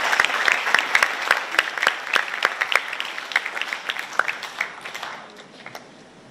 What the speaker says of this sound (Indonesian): Tepuk tangan buat adik-adik sekalian.